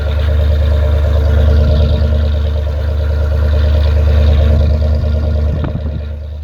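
An old car engine idles once warmed up, a loud steady low rumble with an even rhythmic pulse, close by and alone, fading slightly at the end.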